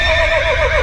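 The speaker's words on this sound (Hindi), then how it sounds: "वो देखो ग्रैंडपा का घोड़ा यहीं पर लगा हुआ है" A horse whinnies loudly and close by, one continuous wavering neigh filling the brief moment over low background rumble.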